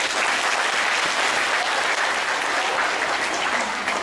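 An audience applauds at a sholawat religious gathering in Hong Kong, with dense, steady clapping that holds at a loud, even level for the whole stretch and no clear voices on top.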